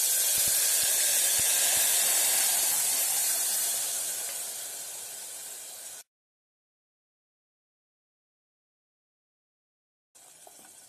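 Ground tomato, onion, ginger and garlic masala sautés in a hot pan for Madurai mutton salna, giving a loud, steady hiss for several seconds that gradually fades, stops, then briefly returns.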